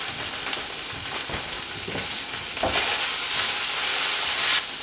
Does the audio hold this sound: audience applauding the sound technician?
no